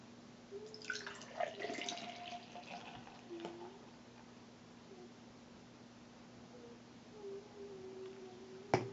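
A 2011 Oskar Blues G'Knight craft beer is poured into a glass, giving a faint trickle and scattered drips early on before settling into near quiet.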